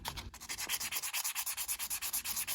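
Steady rhythmic sanding of a rubber and plastic pen, a rough scratchy rub repeating about six times a second, close up and alone with no talking.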